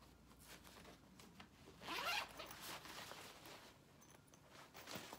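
A zipper on a backpack's large compartment is pulled open, a soft scratchy rasp close by, strongest midway through amid quiet handling rustle.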